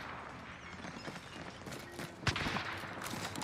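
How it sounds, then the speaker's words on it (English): Gunfire in Call of Duty Warzone on Rebirth Island: faint scattered shots crackle in the background, with one sharper, louder crack partway through amid quiet game ambience. "They're shooting at me."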